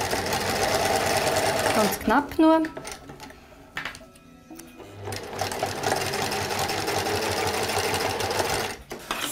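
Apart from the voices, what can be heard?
sewing machine stitching fabric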